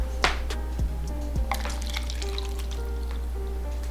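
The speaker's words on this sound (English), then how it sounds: "I'm gonna pour it in a separate cup" Water being poured into a separate cup while preparing a witch potion bottle, with soft splashing and dripping over a steady low hum and a few light clinks.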